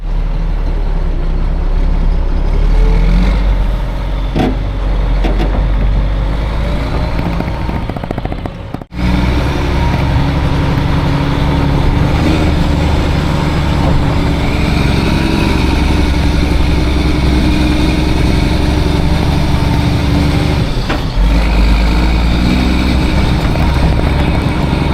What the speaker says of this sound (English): I had to pull the truck out of the way from the dirt piles